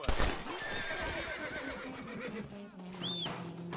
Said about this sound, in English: You didn't love the horse anyway.